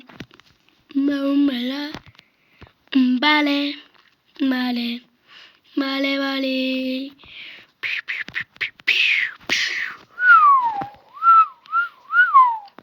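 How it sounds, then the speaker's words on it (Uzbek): A person whistles short tonal phrases, some with stepped pitches and later gliding, warbling notes, separated by brief pauses and a few clicks. "Qanday hushtak chalaman?"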